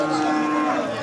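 A single loud, close cow moo, a sustained low bellow lasting about a second, at a cattle market in Madarganj, Thakurgaon district, Bangladesh.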